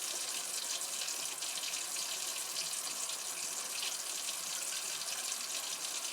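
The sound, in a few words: water running from an opened tap to bleed air from the line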